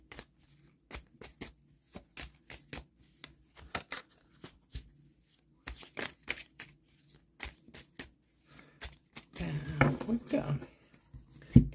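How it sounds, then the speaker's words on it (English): Tarot cards being shuffled make a series of quick, crisp flicks and riffles in irregular bursts, close and fairly quiet, ending in a denser rustling flurry as the deck is shaken. "I have shuffled, but I will shuffle and shake again."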